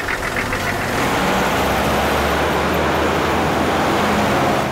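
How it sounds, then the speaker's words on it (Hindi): A car engine turns over and settles into a steady, loud idle with a low rumbling drone that runs unbroken from start to finish, with no voices. "चल गाड़ी चला, चलो।"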